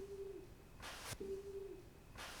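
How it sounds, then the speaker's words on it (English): A stomach growls in two low, hollow, owl-like hoots, each a short sustained tone tailing off, separated by bursts of hiss from a quiet, noisy room. "There's my stomach kind of grumbling."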